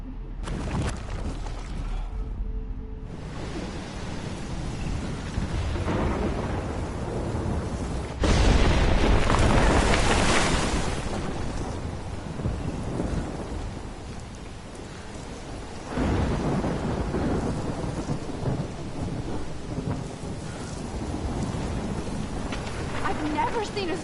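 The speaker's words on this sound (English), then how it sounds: "I've never seen a storm like this in Oregon." Rolling thunder and heavy rain in a Life is Strange storm, with loud cracks and sustained downpour across the whole stretch, while someone talks over it.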